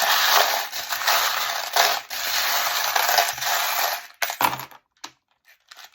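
Small metal charms tumble out for a divination reading, a dense run of light metallic clinks and rattles like scattered coins that fades into a few sparse taps near the end.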